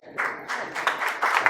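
An audience at a book presentation in El Péndulo bookshop applauds the author Gerardo, a short burst of steady, fairly close clapping.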